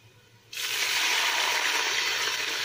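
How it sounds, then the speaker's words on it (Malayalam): Water is poured into a pan of frying onions for mutton biryani, setting off a sudden loud rushing hiss and sizzle after a quiet start that holds steady to the end. "സവാളൊക്കെ ഏകദേശം നന്നായിട്ട് മുരിഞ്ഞ് വന്നിട്ടുണ്ട് അപ്പോൾ അതിലോട്ട് ആവശ്യത്തിന് വെള്ളം ഒഴിച്ച് കൊടുക്കാം"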